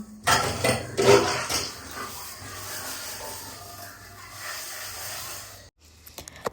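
A husband washing dishes at home: pots and utensils clank loudly at first, then a steady hiss of running water continues before stopping abruptly, followed by a few light clicks.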